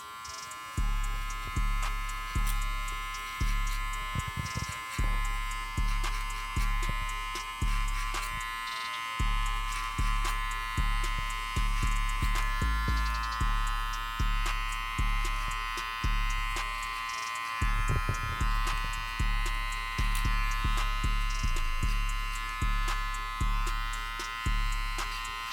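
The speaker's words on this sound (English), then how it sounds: "I always clip over comb just because it cuts your time in half" Electric hair clippers cutting hair clipper-over-comb during a burst fade haircut, a loud constant close buzz with rhythmic dips and clicks as strokes pass through the hair.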